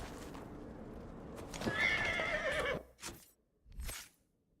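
A horse in Dragon Age Inquisition gives a rising, quavering whinny, followed by a couple of snorts and hoof sounds, fairly quiet and with no voices over it.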